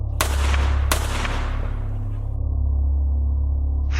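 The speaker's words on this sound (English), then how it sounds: "I fire 2 shots in sheer panic" Two sharp gunshots fired in quick panic, each a loud close crack about a second apart, over a deep steady low rumble.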